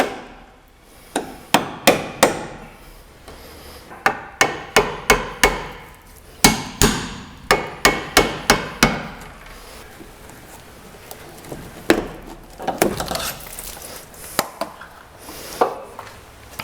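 Chisels are hammered to drive out rivets and pry metal floor panels off the rear of a C1 XL. Sharp, ringing metallic strikes land in quick uneven bursts with short pauses, close and loud, with no voices.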